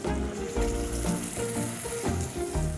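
Ground spice paste frying in hot oil with green garlic for a mixed purple yam curry, giving a steady loud sizzle throughout with soft stirring bumps and tonal background sound.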